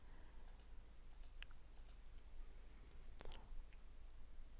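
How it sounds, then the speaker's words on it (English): Several sharp, faint mouse button clicks, spaced unevenly over a steady low background hum, during work in kitchen design software. "While I've got my left click held down, you can click the right button on the mouse and it's going to spin"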